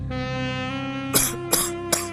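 Three short, harsh coughs break over a sustained musical drone, spaced about a third of a second apart.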